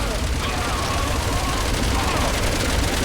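Rocket launcher fire in the Resident Evil video game: a loud, continuous barrage of explosive blasts runs densely for the whole stretch, with no gaps.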